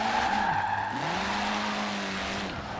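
A Ford Fiesta drifts in Forza Horizon 4, its engine droning as pitch dips and climbs through a gear change, with tires squealing steadily across the slide.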